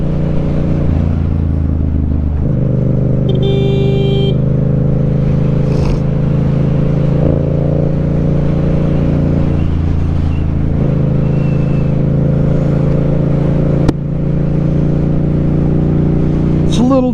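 Motorcycle fitted with a steering dampener ridden on a road on a chilly day, a loud, steady engine drone with shifting tones heard close from the rider's position, with engine pitch changes and brief noises over the constant hum.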